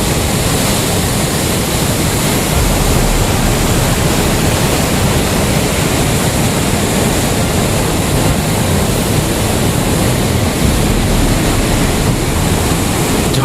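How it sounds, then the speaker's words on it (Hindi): The Ganges in violent flood after a cloudburst at Haridwar, a loud, steady roar of rushing water that fills the whole span, dense and unbroken without pauses, with no talk over it. "यहाँ पर बहाव देखो कितना ज़बरदस्त है।"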